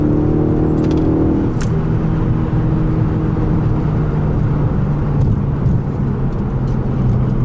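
Car engine rising in revs as the driver blips the throttle for a rev-matched downshift into fourth, a steady loud drone from inside the cabin with no talking.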